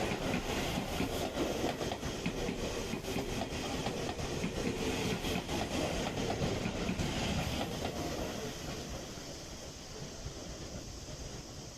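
A Seibu 9000 series train runs on the Seibu Tamako Line near Hagiyama Station, its wheels clattering in a steady rhythm over the rails with a continuous rumble and hiss, fading slightly toward the end.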